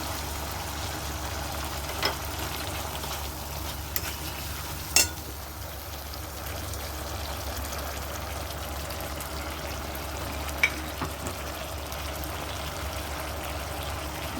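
Soybean curry with poppy seed and mustard paste frying in a pan as yogurt goes in, giving a steady, even sizzle and bubbling throughout with a few brief taps and clinks, close and moderately loud, no voices.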